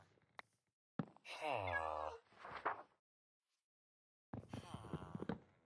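A cat in the Minecraft video game gives two drawn-out, wavering meows with a short gap between them, close and clear, with no talk over them.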